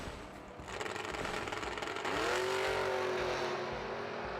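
Chevrolet Camaro drag racing car launching at a summer drag event, a loud engine roar that rises into a strong climbing rev around mid-clip and holds steady, close and dominant with no talk.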